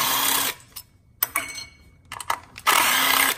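A 10 mm socket on a ratchet or small power driver loosens the four ignition coil bolts on a Fiat 1.4L turbo engine, giving two loud, steady whirring bursts at the start and end with quieter clicks and handling noises between.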